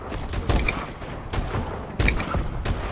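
Bursts of gunfire from a Call of Duty match, several rapid volleys of shots at roughly half-second to one-second intervals, loud and close with no talk over them.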